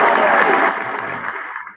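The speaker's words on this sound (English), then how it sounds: "Yeah, I think it's just a bunch of applause." Dense applause from a crowd in a played-back recording, loud and sustained at first, then tapering off over a couple of seconds.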